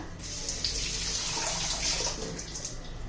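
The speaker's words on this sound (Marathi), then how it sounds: "दोन तीन हिरव्या मिरच्या घेतलेल्या आहेत त्या धुवून घेते" Running tap water pours steadily for about three seconds while two or three green chilies are rinsed for a raw mango chutney, a continuous close hiss with no talking.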